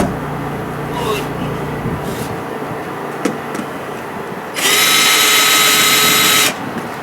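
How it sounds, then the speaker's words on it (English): A power drill whines loudly for about two seconds, grinding into a stainless steel roof emergency hatch, after a stretch of quieter workshop noise and clicks. "This is very hard to drill here. Yeah. Because it's a stainless steel."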